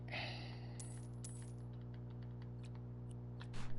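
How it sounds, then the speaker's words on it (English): Sharp clicking, like keyboard typing or mouse clicks, taps irregularly in the background over a steady electrical hum, with no talking. "If you hear all excessive clicking in the background"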